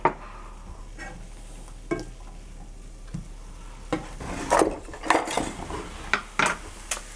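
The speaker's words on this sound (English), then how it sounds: "I'm going to add in my garlic and just give that a good cook for about a minute or two." Garlic and onions cook in a pot for a vegan spicy tofu ramen, with a low sizzle beneath scattered scrapes and knocks of a utensil stirring against the pot, growing busier and louder toward the end, no talking.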